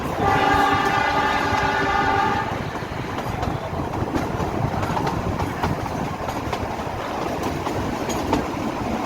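The small Shimla–Kalka mountain train runs along its narrow-gauge line, opening with a loud, steady horn blast for about two seconds, then a continuous rumble and rattle of wheels and carriages close by.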